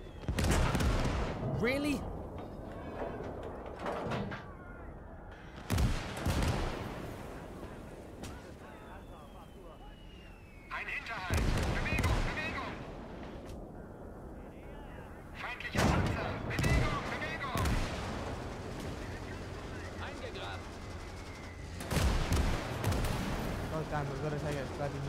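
Mortar and gunfire in a WWII video game set during the Battle of the Bulge German offensive: heavy booming blasts roll in every few seconds over constant battle din, while voices talk throughout.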